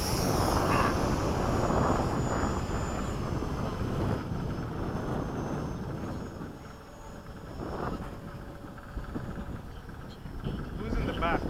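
Hawk jet aircraft take off in formation, a loud continuous roar mixed with wind rush heard from inside, while crew voices talk over the engine noise.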